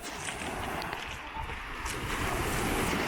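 Slightly choppy sea waves wash steadily near the shore with a soft, broadband hiss, mixed with light wind buffeting the microphone and no clear talk.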